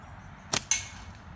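A flat-band slingshot fires a shot over a chronograph outdoors: a sharp snap of the band release followed a split second later by a second crisp crack, both close and short against faint background hiss.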